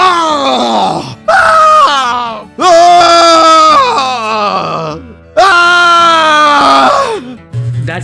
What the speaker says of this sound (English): I'm gonna give you a few seconds to listen to engineer screaming.mp3.